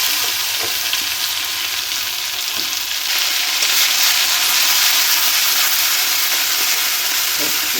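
Chili powder masala with onion, tomato, garlic and coriander stalks frying loudly in a pan over low gas, a dense steady sizzle and hiss with occasional stirring scrapes.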